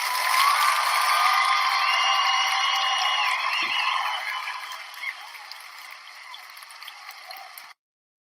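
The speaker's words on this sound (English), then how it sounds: "Let's give Morgan a round of applause." Audience applause and cheering for a performer named Morgan, loud and steady at first, then thinning and fading to a lighter patter before cutting off.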